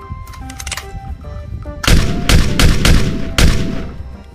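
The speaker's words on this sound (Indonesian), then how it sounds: "Widih, lihat teman-teman, ada Glock pistol." A toy Glock pistol fires a rapid burst of sharp, loud cracks in quick succession, following a quieter stretch of electronic tones and clicks.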